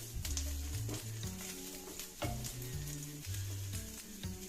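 Thinly sliced vegetables, including shredded cabbage, sizzle and fry steadily in a hot pan while being stirred, with scraping stir strokes and occasional clatter over a continuous loud crackle.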